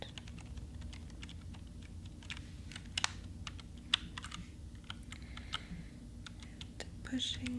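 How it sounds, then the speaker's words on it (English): Someone types on a computer keyboard, and close, crisp key clicks patter irregularly and continuously while a soft whispering voice talks quietly under them. "Why is it so satisfying to type?"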